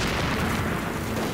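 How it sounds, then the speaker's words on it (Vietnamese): A grenade goes off in a wartime battle scene against Japanese soldiers, a loud, close, sustained rumbling boom that fills the whole moment with dense low roar and no voices over it. "Các anh em, lựu đạn."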